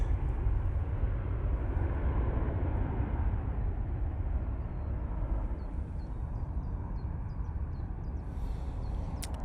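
A jet airliner takes off from Manchester Airport in low visibility, bound for Berlin. Its engines make a loud, sustained low roar throughout, with faint bird chirps high above near the end.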